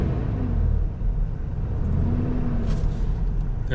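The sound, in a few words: troubled vehicle engine rumbling, blowing smoke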